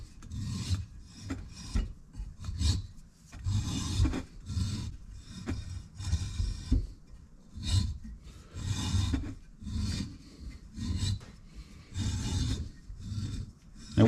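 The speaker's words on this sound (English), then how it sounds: "when you're tapping holes" A hand tap cuts threads into a Volkswagen Type 3 brake drum for 14mm wheel nuts, producing a steady, repeated grinding rasp in rhythmic back-and-forth strokes, close and fairly loud, with no voices.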